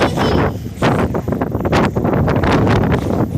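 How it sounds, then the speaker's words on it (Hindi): Cool wind blows hard outdoors during a rainstorm in Lahore, gusting and buffeting the microphone with loud, continuous rumbling roars that surge and ease. "ठंडी ठंडी हवा चल रही है"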